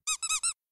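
Four quick, high-pitched rubber squeaks from bath toys in a rapid burst, close and clear, then silence.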